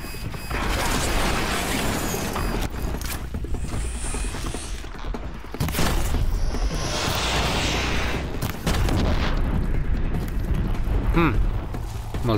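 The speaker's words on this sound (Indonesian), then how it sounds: "Meledak satu." Explosions and mechanical robot combat sounds from the action game Horizon Zero Dawn, loud and dense throughout with booming bursts and clanking machinery, a player's voice faintly mixed in.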